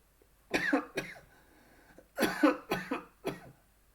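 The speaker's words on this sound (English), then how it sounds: "that's nothing to do with COVID, coughing at all" A person coughs in two bursts, a couple of rough coughs, a pause, then three more coughs close by with no talking.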